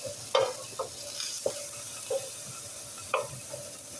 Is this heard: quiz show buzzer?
no